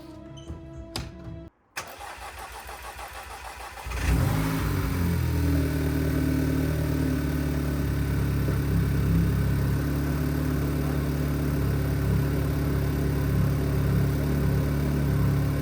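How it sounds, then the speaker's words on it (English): Audi A3 engine cranking and catching after a few seconds of quiet handling noise, then settling into a steady, fairly loud idle with a slight misfire roughening the rhythm. "the car has started. It still misfires a little bit"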